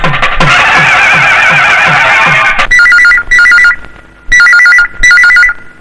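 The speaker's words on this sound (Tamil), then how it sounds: "போன் எடுக்கவே ஆள் இல்ல" A telephone rings loudly: after a busy stretch of rhythmic noise, a trilling electronic ringtone repeats in four even bursts with short gaps between them, alone without talk.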